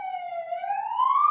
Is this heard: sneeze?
no